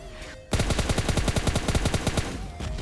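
Rapid automatic gunfire from a mobile battle royale shooter game erupts suddenly and rattles on loud and continuous for over two seconds, bursts overlapping, then eases into a quieter tail.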